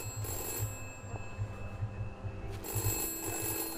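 A telephone rings inside a phone box in a video game, sounding in repeated bursts of bell tones with brief pauses, fairly clear against a quiet hum.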